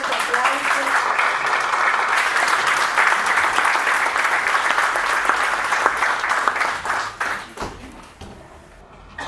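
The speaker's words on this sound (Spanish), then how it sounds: "Un fuerte aplauso." A crowd applauds loudly and steadily at a union-hall solidarity meeting about Palestine, the dense clapping holding for about eight seconds before thinning out near the end, with faint voices beneath.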